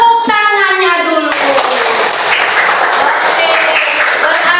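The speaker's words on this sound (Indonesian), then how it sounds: "Tepuk tangannya dulu." Schoolchildren in a classroom clap together in a loud, dense burst that follows brief voiced chatter and continues evenly to the end.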